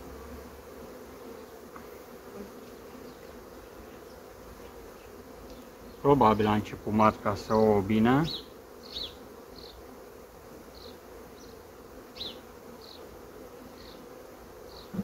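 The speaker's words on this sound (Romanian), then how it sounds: "Totul e că e multă albină." A honey bee colony packed across six frames hums as a steady, dense buzz throughout, with a louder, sharper stretch of close wingbeats near the middle and scattered individual bees passing later; someone speaks briefly midway.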